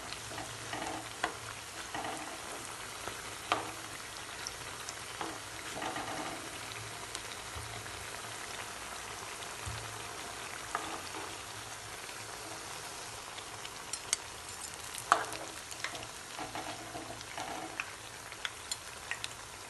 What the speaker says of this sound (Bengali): এইবার বাকিগুলো আমি এইভাবে করে লালচা করে ভেজে নেব।